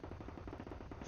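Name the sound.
cannon firing in the video game Gates of Hell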